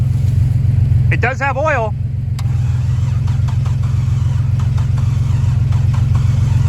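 A worn-out old beater car cranks and catches, then settles into a rough, lumpy idle from an engine firing on only two cylinders, with a person speaking briefly over it.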